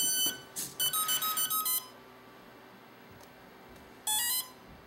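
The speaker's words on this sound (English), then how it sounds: "that beep means the propeller is ready" A quick burst of short electronic beeps from a model airplane's electric motor controller, then a pause and one longer tone, clear and close over a faint motor hum.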